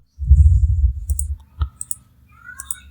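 A few sharp clicks of a button being pressed, two or three quick taps after a short low thump, close and fairly loud with nothing else around them.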